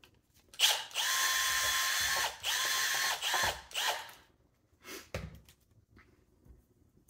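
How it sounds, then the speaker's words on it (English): A power drill spins a step bit through a hole, enlarging it for a metric cable gland on a kayak gear track adapter, in several loud whining bursts that stop and restart, with shorter grinding pulses at the end. "So I'm just gonna drill the hole until it fits."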